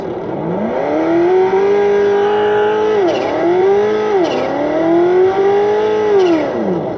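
A simulated engine from an ESS ONE+ engine sound simulator revs up with a rising whine, drops pitch at each gear change, and climbs again through several shifts, loud and continuous.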